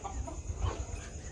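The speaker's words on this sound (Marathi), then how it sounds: "सगळ्या मोठ्या मोठ्या कोंबड्या दिलेल्या आहेत आपण त्यांना अंड्यावरच्या चालू" Hens in a poultry shed give a few faint, soft clucks, quiet and brief against low background noise.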